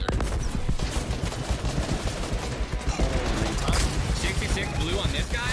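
Dense gunfire from many players in Fortnite crackles in overlapping rapid bursts, loud and continuous over a busy mix of game noise.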